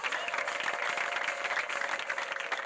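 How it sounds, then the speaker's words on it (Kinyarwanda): A church congregation at an ADEPR prayer gathering claps and ululates together, a continuous, loud roar of hand claps layered with shrill trilling cries, with no pause throughout. "iranyambika muyongere muyihe amashyi n'impundu"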